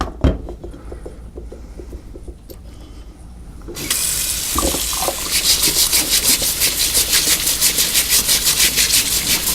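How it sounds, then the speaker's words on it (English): Tap water runs into a sink while a brush scrubs a stone molcajete, first some quiet handling and knocks, then a loud continuous gush with rhythmic scrubbing pulses, close up and without voices. "I'm going to use a brush, get some water. I'm going to put it in my sink."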